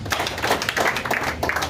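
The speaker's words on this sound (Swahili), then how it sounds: "Tũmũhũre makofi mega" An audience claps together at a gathering, a dense, brief burst of many hands that stays steady and fairly loud throughout.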